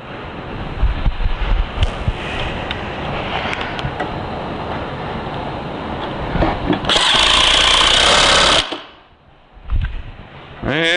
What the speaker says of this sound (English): Once you hear the impact driver change sound, that's probably good.